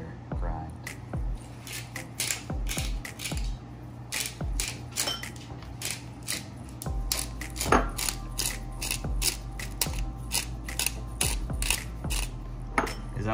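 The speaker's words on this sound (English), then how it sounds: "The larger grind and we're gonna pepper first." Black pepper cracked with a pepper grinder on a coarse setting over crab legs, giving a rapid, steady train of crunchy ratcheting clicks close up, with soft talk faintly underneath.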